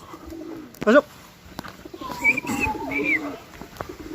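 Pigeons cooing at a pigeon loft during a racing-pigeon pooling event, several soft coos around the middle and end, moderately close, with faint voices and a brief louder call early on.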